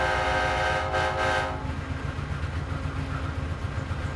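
An M.T.H. model train locomotive with Proto-Sound 2.0 runs steadily, its horn sounding briefly at first, then giving way to a rhythmic chuffing, clattering running sound that continues evenly.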